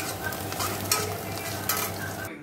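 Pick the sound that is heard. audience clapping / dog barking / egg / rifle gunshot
egg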